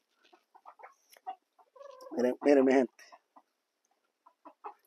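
A plump farm hen gives a few loud, close clucks midway, surrounded by softer scattered clucking and brief speech from a man.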